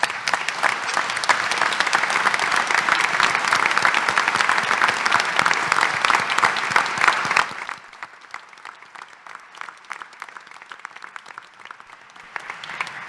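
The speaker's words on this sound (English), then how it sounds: "I think he deserves a round of applause." An audience at a public hearing gives a loud, dense round of applause for about seven seconds, which then thins abruptly into scattered, fading claps.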